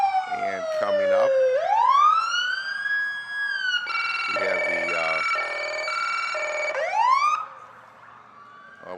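Riverside Police Department vehicles opening an Independence Day parade sound their sirens, loud wailing sweeps rising and falling with yelp bursts and an electronic warble overlapping, fading near the end.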